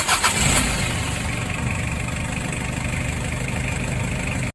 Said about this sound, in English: Van.